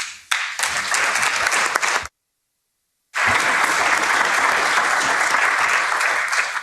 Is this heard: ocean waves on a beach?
no